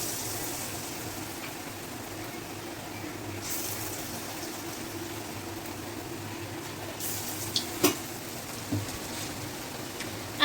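Bottle gourd fritters dipped in gram flour batter frying in oil in a kadhai, a steady, quiet sizzling hiss with a few brief clinks and pops toward the end.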